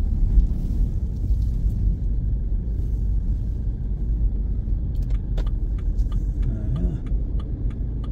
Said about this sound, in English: I'm just going to park over here.